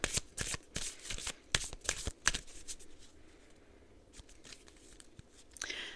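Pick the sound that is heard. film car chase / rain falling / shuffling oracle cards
shuffling oracle cards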